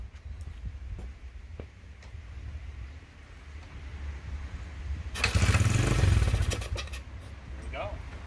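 A Honda XR100R motorcycle, left sitting for three years, sputters to life on starter fluid and runs rough for a few seconds, loud and close, after a stretch of low rumble and handling noise.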